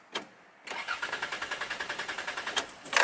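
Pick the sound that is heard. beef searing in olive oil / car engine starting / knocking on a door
car engine starting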